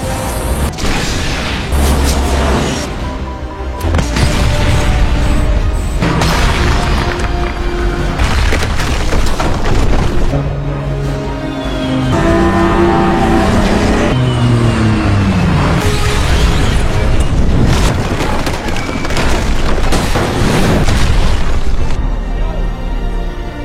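Film action scene of a ghost plane crashing into a tower and exploding, with loud booming impacts, rumbling blasts and debris over dense dramatic sound.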